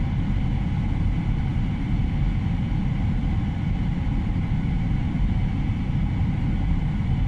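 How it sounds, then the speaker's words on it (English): Steady, continuous drone of airliner jet engines in the PMDG flight simulator game, a dense low rumble with no variation, loud and alone throughout. "Listen how you can hear the engines now."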